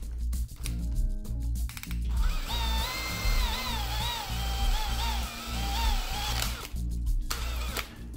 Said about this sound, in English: I'll use a 4mm drill bit to put a hole through it.